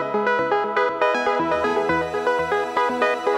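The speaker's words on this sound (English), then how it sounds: "There's a Novation Peak, a bunch of other synths, and a tape deck that Sam's playing and Billy's playing" A Novation Peak and other synthesizers bussed together with a tape deck play a dense, bright chordal pattern, with pulsing rhythmic attacks and no voices.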